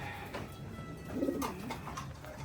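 Pigeons coo softly and steadily in a rooftop loft setting, a low rolling murmur with a slightly louder swell midway, with no talk over it.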